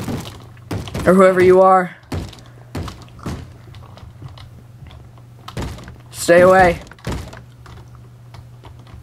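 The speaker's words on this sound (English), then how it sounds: "Don't be banging at my doors." Zombies bang on wooden doors in the Minecraft video game, a series of dull repeated thunks spread through the stretch, loud and close, while a person talks over them in short bursts.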